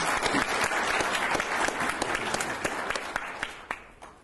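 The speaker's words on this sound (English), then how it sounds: "So let's give them a big applause for their effort." An audience applauds at an automotive industry conference, a steady wash of many hands clapping at close range for about four seconds, tapering slightly toward the end with no voices over it.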